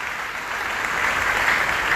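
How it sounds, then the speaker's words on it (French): A congregation at a worship and praise church service applauds in a steady, dense wash of clapping that swells slightly louder toward the end, continuous and fairly close with no talking. "Applaudissez mon Dieu plus fort toujours, et applaudissez mon Dieu encore."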